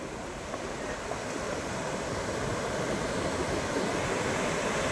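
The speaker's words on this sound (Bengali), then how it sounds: "এখানে সমুদ্রের যথেষ্ট ঢেউয়ের আনাগোনা এবং যথেষ্ট ঢেউয়ের, সেই উঁচু উঁচু বড় বড় ঢেউ" Tall sea waves surge and wash continuously along a shore where fishing trawlers work offshore, a broad steady roar with wind noise and no distinct breaks.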